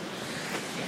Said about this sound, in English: Oh, you hear that wind?